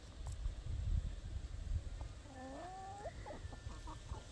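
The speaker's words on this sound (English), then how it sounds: "I'm trying to take care of hundreds of free-range chickens, guineas, ducks, quails" Free-range homestead chickens and roosters give a few close clucks and a drawn-out rising call over a rumbling outdoor background, among hundreds of free-range birds, with no talking.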